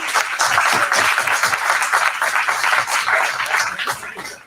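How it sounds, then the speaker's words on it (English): Dense, loud applause from an audience at a startup pitch competition celebrating a third-place team, continuous overlapping clapping sustained for several seconds with no talk. "Big applause."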